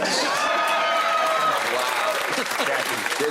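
Studio audience applause on a comedy panel show, a dense, loud wash of clapping that holds steadily throughout.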